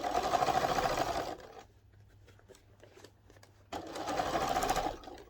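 A sewing machine stitches a round boxed cushion in two steady, whirring runs, with a quieter pause between them and a faint low hum underneath.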